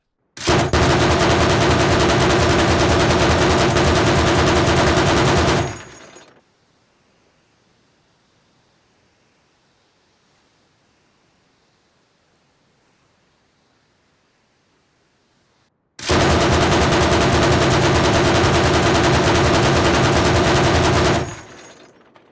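Heavy 14.5 mm KPVT machine gun in Arma Reforger firing two long sustained bursts, each about six seconds of dense, loud, continuous fire, separated by a long quiet gap.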